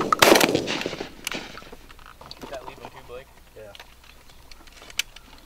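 A loud shotgun blast rings out at the start of a pigeon hunting contest, its sharp report decaying over about a second, followed by quieter rustling, outdoor noise and a few small clicks as people talk nearby.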